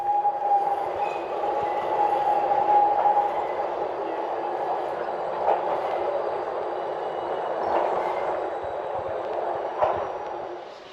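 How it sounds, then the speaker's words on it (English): A Swiss IC21 intercity train hums steadily with rumbling wheels on track and a faint high whine, a continuous mid-range drone with slight swells, no talking. "And there is my Swiss IC21 train ready to take me on almost the final part of my journey today."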